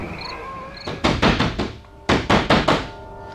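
A door in a house at night is knocked on in two quick bursts of four or five hard raps each, close and loud, with a faint whistle-like tone in the background.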